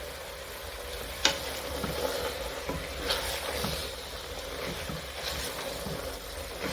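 Oyster mushrooms with soy sauce and lake salt crackle and fry in a hot pan while being stirred, a constant sizzle broken by repeated scraping strokes and one sharp knock of the utensil early on.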